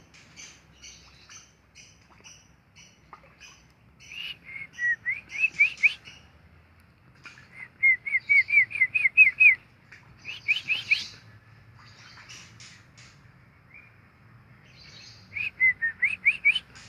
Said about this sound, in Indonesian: Ya, terdengar suara lakbat. Di belakang saya ini peternak lakbat, ada 20 pasang.